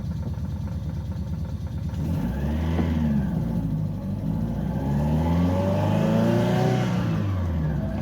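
A cold car engine on its first drive after passing its MOT, with tappets still settling, pulls steadily through rising and falling revs as gears change, a continuous nearby drone with no talk over it.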